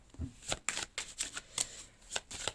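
Tarot cards being shuffled close up, a quick series of crisp riffling and slapping bursts in an uneven rhythm, quiet and without talk.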